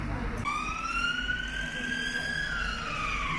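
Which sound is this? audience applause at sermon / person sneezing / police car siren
police car siren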